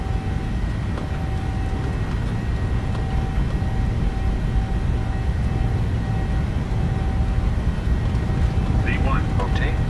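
Airliner jet engines roar through a takeoff roll in Microsoft Flight Simulator 2020, a dense, steady rumble with a faint whine on top and brief cockpit chatter near the end.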